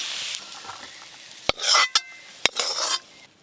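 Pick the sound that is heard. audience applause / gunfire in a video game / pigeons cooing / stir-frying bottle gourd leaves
stir-frying bottle gourd leaves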